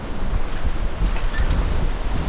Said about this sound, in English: There are some choppy waves there.